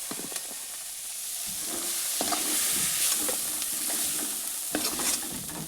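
Onions frying lightly in hot oil in a pan while a Bengali potato-onion kundri dish is cooked, a steady sizzle broken by several scraping stirs as the pieces are lifted out, close and continuous with no talk.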